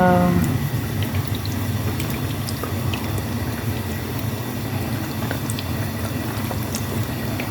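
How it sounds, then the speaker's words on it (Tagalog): Vinegar pours steadily into a pot holding a fish head for paksiw, giving a continuous liquid wash close by that runs unbroken for several seconds over a low background hum. "lagyan na natin ng suka"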